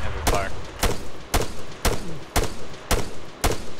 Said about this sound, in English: Oh, taking heavy fire.